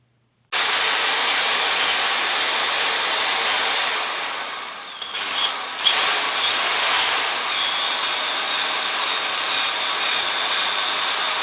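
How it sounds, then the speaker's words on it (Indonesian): A steady, high-pitched power drill whirs continuously, dipping briefly midway as if under load, then running on at full speed. "Pakai bor aja lah."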